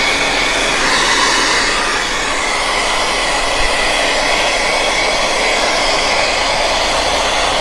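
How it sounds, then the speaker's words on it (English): A pet grooming dryer blasts steadily at close range over an English Springer Spaniel's coat, a loud, continuous rushing whoosh with no breaks and no voices. "So wherever this dryer is separating that hair,"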